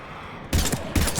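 Two short, loud bursts of rapid gunfire in Mass Effect 3 break a quiet background, close and sharp, with no talking.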